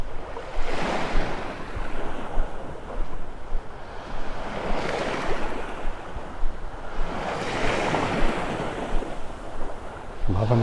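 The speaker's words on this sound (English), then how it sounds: "Loving the sound of those waves," Small waves wash onto the sand at daybreak on a Gulf Coast beach in North Naples, Florida, rolling in steady repeated surges with a constant wash of surf and light wind in between.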